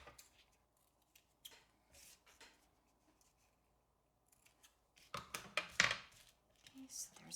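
Scissors snip through paper in several short crisp cuts, faint at first, then a louder cluster of close snips near the end during a simple paper-folding craft.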